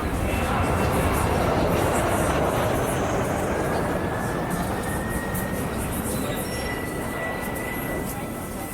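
Aircraft engine noise in the Eurofly 3 flight simulator game, heard through an open cabin door as a loud, steady roar with a rising whine throughout, with no speech.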